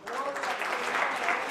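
Church congregation applauding, a dense, sustained burst of clapping, with voices audible throughout.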